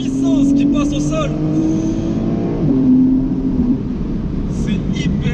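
A Porsche 911 of the 992 generation accelerates hard, its engine note climbing and dropping briefly as it shifts into second gear before rising again; loud and close, with a voice talking over it.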